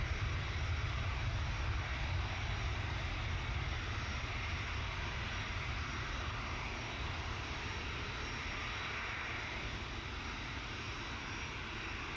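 An aircraft taking off from runway 23 left at Manchester Airport, a steady, loud engine roar that holds constant throughout with broad rumble and no voices.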